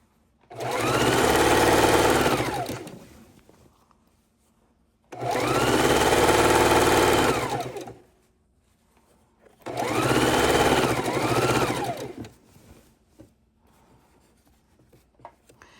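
A sewing machine stitches quilt seams in three loud, steady bursts of a few seconds each, separated by short quiet pauses, with the motor's whirring hum close and clear.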